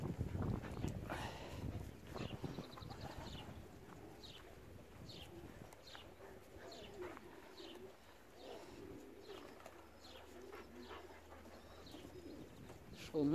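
Racing pigeons coo softly around their loft after returning home, with repeated low coos and a few chirps over faint background noise, while a person's voice talks briefly early on.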